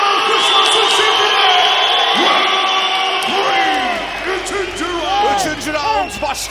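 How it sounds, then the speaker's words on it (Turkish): A crowd at the Mohammed Amini vs Recep Doğan fight in Sultanbeyli cheers and whoops in a broad, continuous roar, heard beneath a loud announcer's voice that dominates. "Recep Doğan kazanır diyenler alkışlasın şimdi."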